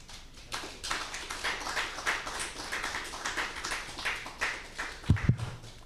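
An audience claps steadily at the close of an Italian academic lecture on assisted dying. The dense, even patter of many hands lasts about six seconds, moderately loud, ending with a few louder thumps.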